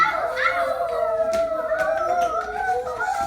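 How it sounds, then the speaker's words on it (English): Several overlapping howls from a wolf pack in the woods, long sliding tones rising and falling together in a sustained chorus with no gaps. "Then they heard some howling."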